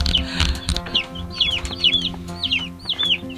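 A group of little baby chicks peep repeatedly up close, their short downward-sliding chirps coming in quick irregular clusters over a low background murmur.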